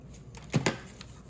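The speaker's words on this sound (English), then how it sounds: "Just snip that off." Scissors snipping paper for a junk journal, two quick close cuts in succession over a quiet room.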